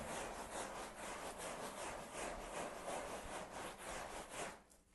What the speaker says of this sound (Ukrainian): Вологою губкою перетираємо.